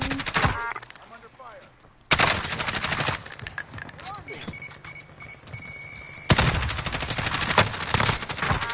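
Video game shooter gunfire: loud, close bursts of rapid automatic shots and heavy thumps, with a lull in the middle before another dense volley.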